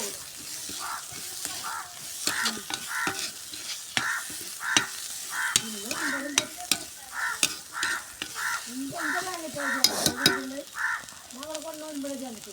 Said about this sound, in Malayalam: ഇതൊന്ന് നല്ലോണം ഇളക്കി കൊടുക്കുക.